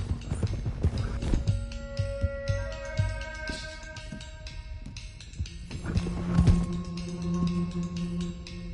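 Several horses in Red Dead Redemption 2 run at speed toward Clemens Cove, their hoofbeats thudding in a rapid, steady rhythm with a brief whinny among them, while game music and effects play underneath.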